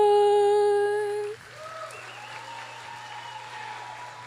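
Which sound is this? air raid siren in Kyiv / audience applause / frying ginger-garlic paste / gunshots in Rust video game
audience applause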